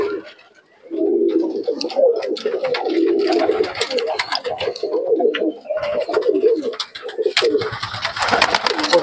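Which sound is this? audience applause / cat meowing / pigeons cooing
pigeons cooing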